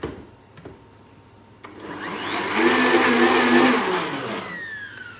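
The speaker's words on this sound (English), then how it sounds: "So then you just want to mix this up, make it a little noise here." Muffin batter with added powder and a little cornstarch being whisked or blended, starting with a few sharp knocks, then a rising whirring buzz that swells loud and steady before easing off.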